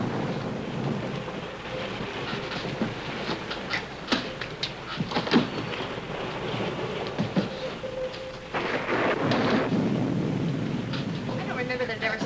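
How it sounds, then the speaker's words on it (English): Steady rain and rumbling storm noise with a few sharp cracks, continuous and fairly loud, growing heavier toward the end. "I don't remember that it ever stormed here this time of year."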